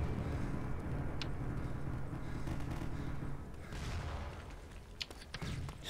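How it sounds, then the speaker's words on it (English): FP6 shotgun firing in the tactical shooter game Tactical Intervention, a sustained clatter of gunfire with a few sharp cracks and bursts near the end, fairly quiet overall. "The FP6 is what I'm using. It's a shotgun."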